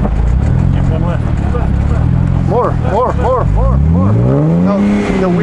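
A Jeep engine revs hard while the vehicle churns through deep snow on a Colorado mountain pass. The engine rises and falls in pitch with a strained, loud drone, and people talk over it.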